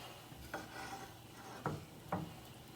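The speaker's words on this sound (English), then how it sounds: "So we're gonna stir this for 1 to 2 minutes" Utensil stirring a melted miso mixture for a salmon topping, a few soft rasping strokes against the pan in a quiet, close setting.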